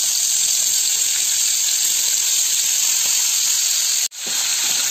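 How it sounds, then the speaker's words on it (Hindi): Prawns coated in turmeric and salt fry in hot oil with a loud, steady sizzle and hiss that briefly drops out near the end, then quickly returns. "या झींगा मछली इसको फ्राई करना है"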